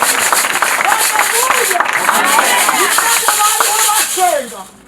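A church congregation at an ADEPR prayer service applauding God, with dense continuous clapping under loud overlapping voices and cries from the crowd, fading away at the end.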